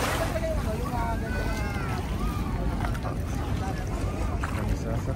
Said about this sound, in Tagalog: Ito po yung bangka sasakyan namin para sa aming island hopping po.